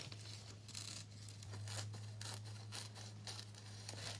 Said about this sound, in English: Let's just say I will start with a pair of scissors.